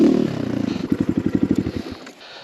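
Small XCW 200 Chinese dirt bike engine idling then revving, a nearby rapid pulsing putter that rises and falls in a quick run of beats before dropping away.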